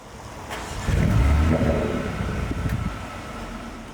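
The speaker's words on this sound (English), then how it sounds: "let's just start the car up and see if the sound of the exhaust with the valve control system is any different" A Brabus B35S (Mercedes-AMG A35) engine with valve-controlled exhaust cranks and fires up, swelling into a deep rumbling exhaust note before settling into a steady idle, close by.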